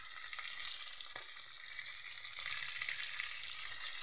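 Duck pieces sautéing in their own rendered juices in a pan, a steady broad sizzle holding for a few seconds at moderate level, with no voices.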